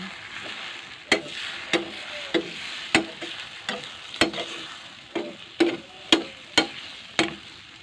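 Seasoned beaten eggs stirred into bitter gourd frying in a pan, a steady sizzle broken by repeated sharp scrapes and taps of the utensil against the pan, close and clear with no voices.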